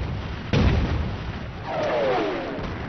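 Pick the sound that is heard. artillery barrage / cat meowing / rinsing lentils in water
artillery barrage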